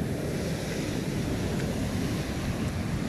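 Ocean surf on a rainy, windy beach at Christmas, with big waves making a steady, dense wash and low rumble while wind buffets the microphone throughout; no talking.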